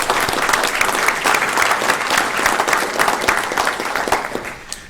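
An audience at a criminal justice board meeting applauds Officer Langford, with sustained, loud clapping from many hands that tapers slightly at the end.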